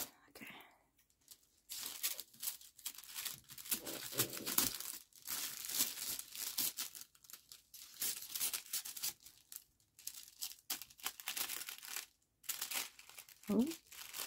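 Gift basket wrapping for a baby boy is cut and handled, giving intermittent crinkling and tearing rustles at close range, broken by short pauses, with a few quiet spoken words mixed in.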